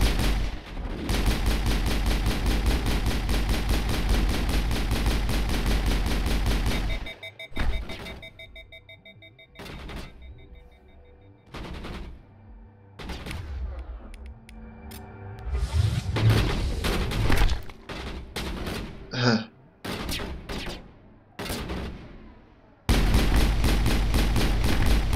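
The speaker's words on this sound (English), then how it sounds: "And then we get our rapid gunfire." Rapid automatic gunfire from the Mass Effect video game, a loud sustained burst of shots that cuts off, gives way to scattered impacts and effects, then resumes at full intensity near the end.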